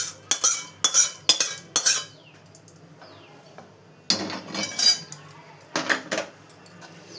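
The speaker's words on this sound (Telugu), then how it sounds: "పోపునంతా ఇలా కలుపుకోవాలి." A metal spoon stirs tempering into lemon rice in a steel vessel, giving bursts of clinking, scraping strokes in two rhythmic runs separated by a quieter pause, close and fairly loud with no talk.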